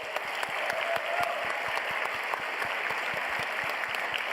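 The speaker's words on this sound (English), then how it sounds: "Can we get another round of applause for everyone here?" An awards-ceremony audience at the DICE Awards breaks into sustained applause, dense steady clapping from a large crowd filling the hall throughout.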